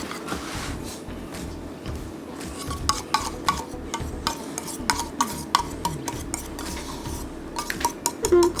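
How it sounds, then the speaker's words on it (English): A spoon scraping and spreading a cream cheese swirl over brownies in a pan, giving soft repeated scraping and tapping against metal over a low background hum, with no talking. "now we're gonna go ahead and put the cream cheese swirl on top"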